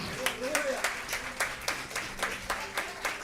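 A church congregation claps in a steady, rhythmic beat through a sermon, with sharp evenly spaced claps and a voice faintly heard under them.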